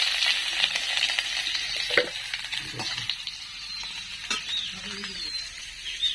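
Steady oil sizzle from potatoes frying in a pan, close by, with occasional stirring scrapes and small clinks over the bubbling hiss.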